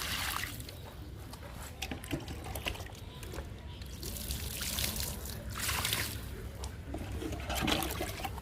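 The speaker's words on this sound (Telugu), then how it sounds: "గోంగూరకి ఇస్తున్నాను వాటరు." Water is poured onto gongura plants in a home garden, a close, steady splashing trickle that swells into louder gushes around the middle and near the end, with no voices.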